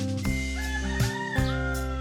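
A chicken clucks close by in short, repeated calls over a steady hum, with no talking.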